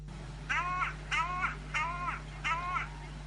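Crow cawing on a foggy early morning, four drawn-out, wavering calls evenly spaced about half a second apart, clear and fairly near over a low steady hum.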